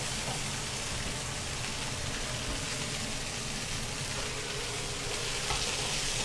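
Chicken pieces frying in oil in a pan give a dense, steady sizzle and crackle, close and even throughout without talk.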